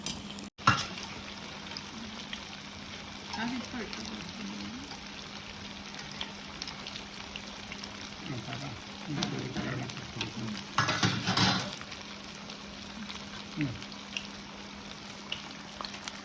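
Vada made from leftover upma frying in hot oil, a soft, steady sizzle with occasional scraping and stirring as the pieces are turned over, close and fairly quiet throughout.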